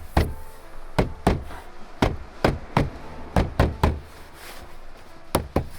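Sharp, separate knocks as aluminum brushed trim is tapped into place on a BMW E90 door, about a dozen close hits in uneven pairs and singles with no talk.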